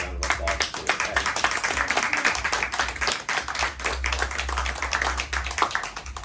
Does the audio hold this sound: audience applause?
yes